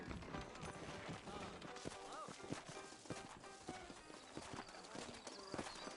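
Horses' hooves clip-clop steadily in a Western game set around New Orleans, a rhythmic run of sharp knocks over a dense bed of music and ambience while someone talks.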